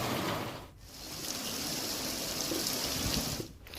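Heavy monsoon downpour over Amreli district in Saurashtra, Gujarat: a dense, steady rushing roar of falling water that dips briefly near the start and again at the end, with no voices.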